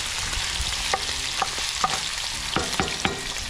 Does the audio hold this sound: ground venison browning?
yes